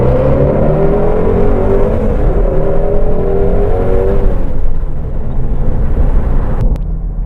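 A Ford Mustang GT350 roars hard under acceleration on a road run, loud and close, the engine note climbing steadily before easing off into a sustained rumble.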